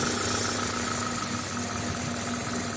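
A 2000 Toyota Celica GTS engine with a high idle problem runs at idle while its IAC valve is adjusted, a steady, close, continuous hum with no clear rise or fall in speed.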